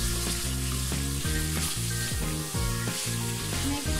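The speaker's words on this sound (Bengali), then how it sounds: "চুলাটা মিডিয়ামে রেখে আমি মাছটাকে কষাচ্ছি" Catfish pieces frying in a pan over medium heat for a potato catfish curry, a loud continuous sizzle and crackle with rhythmic stirring scrapes, close and unbroken, no voices.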